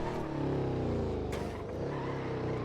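A car pulling away in a GTA roleplay game, a close, loud engine rev with a rising tone over a couple of seconds, heard alone without voices.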